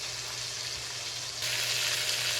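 Beef chunks for a bourguignon stew sizzle and fry in a hot pan with a steady close hiss that grows louder partway through, with no talking.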